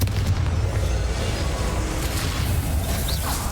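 A blasting-curse explosion in Hogwarts Legacy booms loudly and continuously, a dense rumbling roar filling the whole short stretch without pause.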